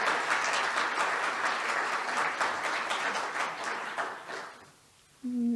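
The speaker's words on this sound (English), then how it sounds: "So if y'all will welcome Joe and give them a round of applause, please." A conference audience gives a round of applause in a lively burst of many hands clapping that tapers off near the end, followed by a brief voice.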